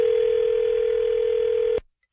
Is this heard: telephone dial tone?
yes